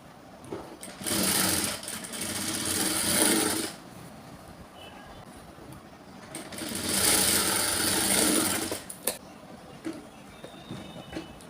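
A sewing machine stitches blouse fabric in two sustained runs of a few seconds each, separated by a quieter pause, with no talk over the stitching.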